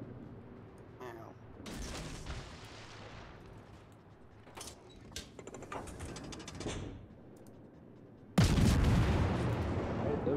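Naval shells crashing down around a destroyer in World of Warships, a string of irregular booms and splashes of varying loudness, ending in a sustained heavy roar near the end.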